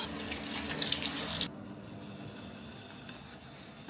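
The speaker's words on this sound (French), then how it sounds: "je vais prendre mon bocal de pois chiches. Et je vais les égoutter," Tap water runs loudly into a kitchen sink while drained chickpeas from a jar are rinsed, then cuts off abruptly after about a second and a half, leaving a quiet background.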